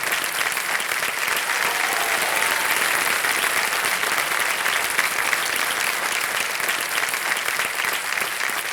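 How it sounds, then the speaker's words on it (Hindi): Studio audience on the KBC quiz show claps steadily for a prize-winning contestant, a dense, even wash of applause holding for about nine seconds with no talk over it. "तालियां बजती रहे इनकी"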